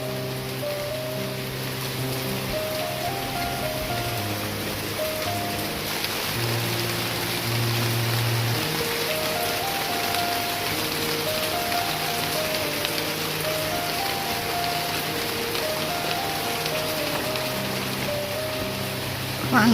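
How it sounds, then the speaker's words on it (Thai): Steady rain patters continuously at moderate loudness, while a faint tonal melody drifts beneath it throughout. "ฟังเสียงฝนน้ำกันพี่น้อง"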